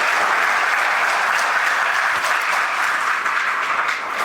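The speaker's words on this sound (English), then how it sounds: "Let's give the mayor a round of applause" Guests at a renovation celebration for a family center clap for the mayor in sustained, even applause from a crowd indoors, loud and unbroken from start to finish without speech.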